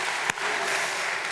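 A congregation at a church service applauds together, a dense, steady wash of clapping sustained throughout the brief moment.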